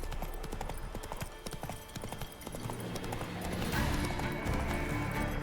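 Roach the horse trotting in The Witcher 3 video game, a steady, fairly quiet clip-clop of hooves that grows a little louder and busier toward the end, with a brief snort-like sound.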